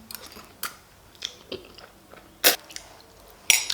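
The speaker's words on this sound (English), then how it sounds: "Kind of the crunch from the capsicum." Close crunchy chewing of Indomie noodles with capsicum and sausage, several crisp bites and mouth sounds spaced irregularly, with two sharper loud crunches near the end and no talk.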